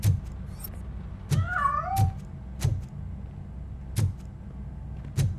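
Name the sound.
cat meowing in the video game Robocop: Rogue City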